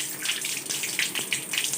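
Running water from a turned-on tap at a handwashing sink makes a short, steady splashing hiss up close, with no voices heard.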